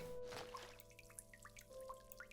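Water drips from a leak in the game Homesick, distinct droplets falling at an irregular pace over a faint steady tone and quiet ambience, with no talking.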